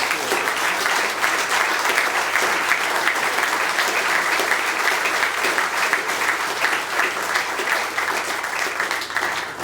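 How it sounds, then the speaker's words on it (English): A courtroom audience at a district court Law Day event gives sustained applause. Many hands clap steadily and densely for about ten seconds, filling the room with no voices above it. "So if we could have a round of applause for everyone."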